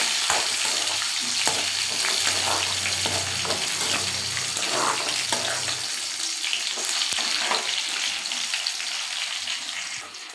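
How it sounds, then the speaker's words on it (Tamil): Shallots, curry leaves and garlic frying in hot oil, a loud continuous sizzle with scattered spatula scrapes and taps, steady and close throughout, with no voices. "எண்ணெயில் போடுங்க, நல்லா வதங்கட்டும்."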